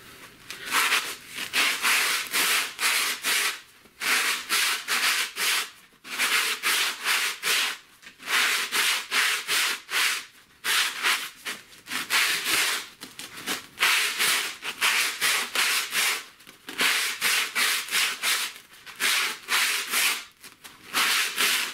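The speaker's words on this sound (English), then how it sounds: "The sandpaper in your hand, wrap it around firmly, hold it" Someone hand sands a wooden baseball bat with coarse-grit sandpaper wrapped around it. Close, steady, rhythmic rasping strokes repeat in long back-and-forth passes with brief pauses between them and no talking.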